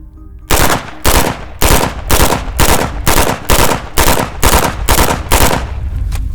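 An MP5 submachine gun chambered in 10mm Auto fires a rapid, evenly spaced string of loud, close bursts, each punchy report running into the next, with no talk.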